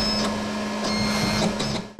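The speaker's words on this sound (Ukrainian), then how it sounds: "спеціальний принтер друкує заданий текст тим же шрифтом Брайля" A Braille printer embosses text onto thick paper, giving a steady mechanical hum with a sustained tone and rhythmic bursts of punching noise, close and fairly loud, ending abruptly.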